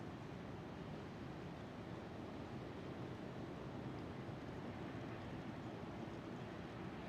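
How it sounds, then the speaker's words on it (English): Strong wind at Schiphol airport roars in a steady, broad rush against the microphone. It sounds loud and continuous, with no voices. "I didn't expect there to be so much wind today"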